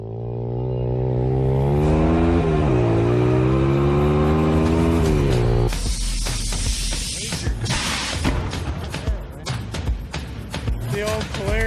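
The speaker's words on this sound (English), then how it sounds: "The old Polaris two-step rev limiter going on here." A Polaris engine revs hard and bounces off a two-step rev limiter, giving a loud, rising drone and then rapid choppy popping bursts, close up, with voices heard at the start.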